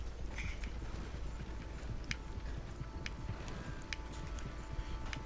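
A horse's hooves clip-clop in a steady walking rhythm in Red Dead Redemption 2, close and clear over a constant outdoor ambience, with no voices.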